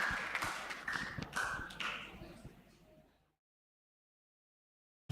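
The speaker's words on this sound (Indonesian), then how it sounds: "mari tepuk tangan." A church congregation clapping, a short burst of scattered hand claps that fades out after about three seconds, followed by silence.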